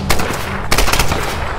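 Rapid gunfire from the Tomb Raider video game, a dense burst of loud shots that pauses briefly and then resumes just as heavily, with no talking over it.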